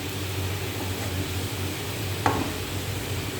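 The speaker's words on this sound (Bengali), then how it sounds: "আলুটা ভাজা করতে থাকি।" Potato pieces frying in a pan while being stirred, a steady soft sizzle with a low hum underneath and one brief utensil clink partway through.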